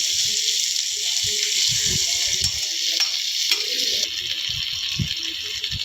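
Fish pieces for a Telangana-style fish curry fry in a pan with a steady, bright sizzle. A voice talks faintly underneath, and soft stirring knocks come through now and then.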